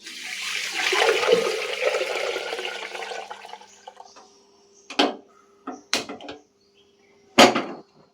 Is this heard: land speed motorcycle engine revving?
no